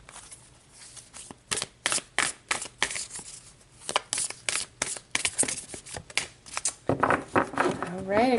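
Tarot cards shuffled in rapid, crisp riffles and flicks at close range, a steady run of papery bursts that ends with a person speaking.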